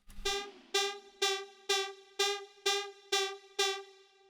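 A bright, buzzy Serum synthesizer lead strikes the same note seven times at an even pace, each hit swelling and fading and shifting pitch before the next.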